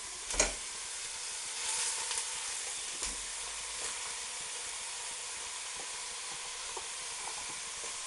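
Ground lamb browning over full gas heat in a pan with softened onion, giving a steady close sizzle with a couple of soft knocks near the start and no talk.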